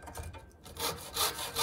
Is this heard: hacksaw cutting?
yes